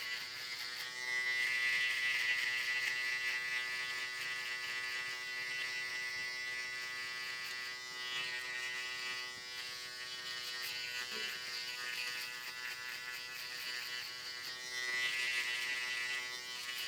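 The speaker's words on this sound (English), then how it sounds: "whenever I am using the shaver, you're gonna see me use it lightly just around the ear and on the back of the neck" An electric shaver buzzes steadily at close range as it works lightly around the ear and along the back of the neck during a mid drop fade haircut, with slight changes in pitch as it moves.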